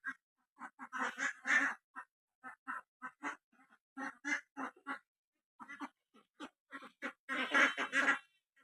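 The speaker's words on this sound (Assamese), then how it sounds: "এইফালে আমাৰ হাঁহখিনি আছে" Ducks at a rural home quack in quick repeated bursts, loud and close, with short gaps of silence between the calls.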